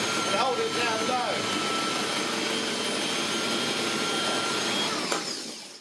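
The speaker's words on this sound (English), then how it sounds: "A brand new, unused until now, Hoover floor polisher." A brand-new, previously unused Hoover F38PQ floor polisher runs with a steady, loud motor whine and brush drone for about five seconds, then powers down and fades out at the end; brief voice-like tones sound near the start.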